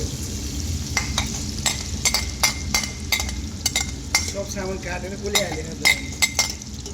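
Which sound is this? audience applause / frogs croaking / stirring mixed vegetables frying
stirring mixed vegetables frying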